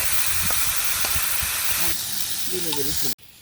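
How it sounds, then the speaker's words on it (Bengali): Pointed gourd, potato and stems fry with turmeric and salt in a pan, giving a loud, steady sizzling hiss close by. A faint voice comes in late, and the sound cuts off abruptly near the end. "পটল আলু ডাঁটাটাকে আমি একসঙ্গে আংচিয়ে নিচ্ছি হলুদ লবণ দিয়ে।"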